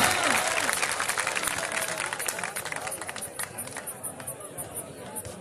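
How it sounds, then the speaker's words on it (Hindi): A crowd at a cricket match at Al Noor Stadium, Noorpur Thal, keeps up steady applause that fades gradually, with babble and a voice underneath. "तालियां जोरदार तालियां"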